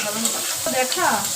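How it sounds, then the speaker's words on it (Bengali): Onions frying in oil in a kadai, a close, busy sizzle with stirring scrapes, while a voice speaks briefly over it. "এবার আমরা পেঁয়াজটা এই তেলে ভেজে নেব।"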